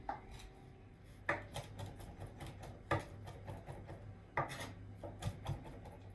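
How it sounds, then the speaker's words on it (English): A knife chops anchovy fillets finely on a board for a butter mixture, with irregular quick taps and scraping strokes, some louder knocks in bursts, fairly quiet and close, no voices. "Then chop finely our anchovies fillets and add them to the butter."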